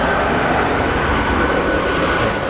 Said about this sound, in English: The planes never fly that low by my crib, bro.